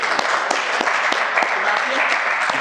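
An audience at a yoga and life-skills session claps, a dense, steady patter of many hands close by throughout.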